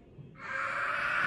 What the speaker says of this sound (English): My baby bird's crying.